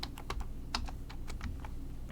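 Computer keyboard typing during a Korean word-processor (Hangul) exam practice session: close, quick irregular clicks and key taps in uneven bursts, with no voices.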